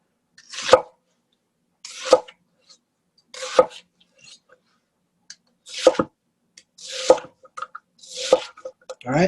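A knife chops an onion into stir-fry-sized pieces on a cutting board, giving sharp single cuts spaced a second or so apart, close and crisp against near silence.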